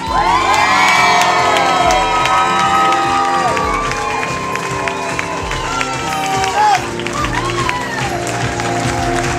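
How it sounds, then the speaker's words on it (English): Wedding guests in Atlantic City, New Jersey cheer, whoop and applaud loudly as the newlyweds are introduced, a dense, boisterous crowd roar with high shouts and whistles riding over it, continuous and close. "Keep that applause going."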